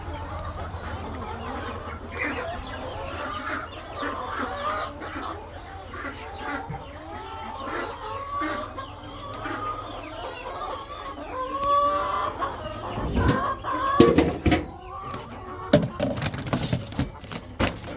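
Chickens on a chicken ranch cluck and chatter continuously at close range, with a few louder squawks and calls rising late in the sequence, and a voice speaking briefly underneath.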